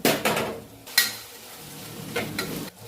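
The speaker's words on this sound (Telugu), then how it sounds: "పుదీనా కొత్తిమీర కూడా కొంచెం ఫ్రై కావాలి" Chopped tomatoes, green chilies, coriander and mint frying in a pan for a mutton curry, with a steady hiss of sizzling oil and several loud bursts of stirring and scraping against the pan.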